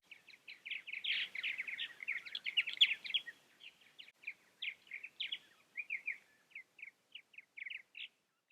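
Birds sing at a quiet, hidden bird haven along Bill Williams Road, a dense run of bright chirps and trilling phrases that thins into spaced, repeated calls, fairly faint against near silence.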